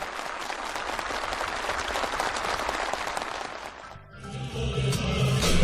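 Participants at a ceremonial gathering for housing permits on a farm village applaud warmly, a dense continuous roar of clapping that fades out before music and a voice come in near the end.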